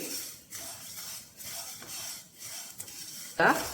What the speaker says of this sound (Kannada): ಆದ್ರಿಂದ ಲೋ ಫ್ಲೇಮಲ್ಲಿ ಚೆನ್ನಾಗಿ ಆರಾಮಾಗಿ ಹುರಿಯಿರಿ.